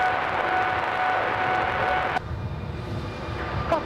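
An airplane lands at Adelaide Airport, its engine roar steady and moderately distant before dropping abruptly to a lower, quieter rumble, with no voices.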